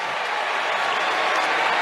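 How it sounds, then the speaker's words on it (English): Brief burst of crowd applause at Wimbledon after a Tsitsipas shot clips the line in a Kyrgios match, a dense steady clapping throughout. "that's got some applause from Kyrgios and a thumbs up towards Tsitsipas"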